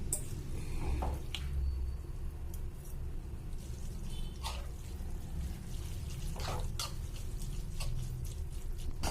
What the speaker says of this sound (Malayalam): ഇനി ഇത് ഇതുപോലെ നല്ല നല്ലതുപോലെ ഇതൊന്ന് മിക്സ് ചെയ്തെടുക്കാം നമുക്ക്